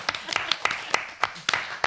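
Sparse clapping from a small studio audience on a French quiz show, a handful of separate claps rather than a full ovation, faint and brief.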